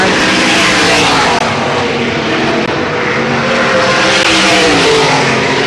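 Dirt track race cars at Selinsgrove, led by Greg Lamy's number 0 car with Lenny Krautheim close behind, roar down the front stretch in a loud, continuous, close engine drone.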